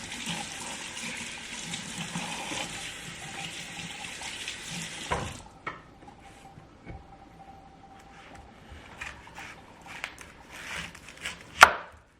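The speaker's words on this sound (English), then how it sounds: "Let's cut some onions." Knife chopping a whole yellow onion on a board, a steady run of close, sharp cutting taps, with running tap water rushing loudly over the first half before it stops and a few louder knocks near the end.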